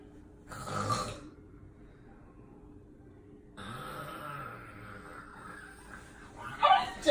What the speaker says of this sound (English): Why you snoring like something wrong with you?